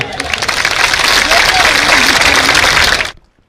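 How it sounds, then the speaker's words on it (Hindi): Crowd at an election rally in Haryana, India giving loud, dense applause that swells over a few seconds, then stops abruptly into silence. "तो एक बार जोरदार तालियां"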